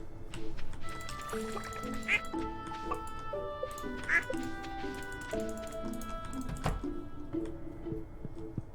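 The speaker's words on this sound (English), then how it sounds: "Oh my god, my little ducks. Hello, ducks." Cartoonish duck quacks from the farming game Stardew Valley pop out a few times over bright looping game music, while a person talks.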